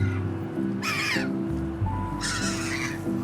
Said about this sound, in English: These birds are insane.